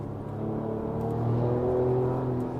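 Ford Ranger Raptor engine revving steadily through its power band, a continuous loud low drone with rising harmonics heard from inside the cabin, no talking.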